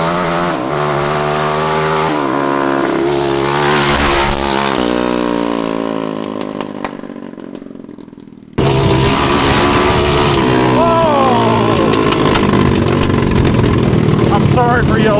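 A small racing engine swapped into a mini jeep screams and revs hard, pitch climbing and falling through gear changes, then cuts briefly before roaring back loud and close.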